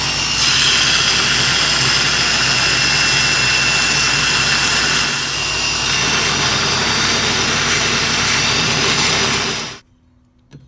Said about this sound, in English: Get the grinding.